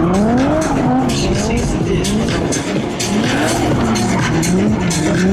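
Monster Jam vehicle with over 600 horsepower driving at a motor show in London, tires squealing in repeated rising and falling screeches over a loud, continuous engine roar.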